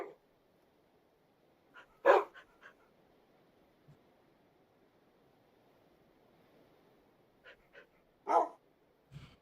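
A dog in Minecraft barking in a few short sharp bursts, spaced seconds apart over a quiet, faintly hissing background.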